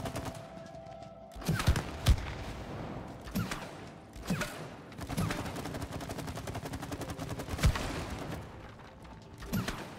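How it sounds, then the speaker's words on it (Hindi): Gunfire hitting shooting targets in the co-op game It Takes Two, scattered sharp shots and rapid bursts mixed with mechanical clanks and creaks of moving targets. "शूटिंग टारगेट मारो"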